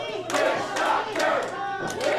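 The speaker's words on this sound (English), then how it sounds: "Once again, the crowd getting behind Witch Doctor" Wrestling crowd roaring and chanting in support of Witch Doctor during a match against Robby Vegas, a loud, dense wall of cheers that swells in repeated waves across the arena.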